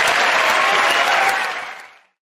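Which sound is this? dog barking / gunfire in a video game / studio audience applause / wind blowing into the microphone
studio audience applause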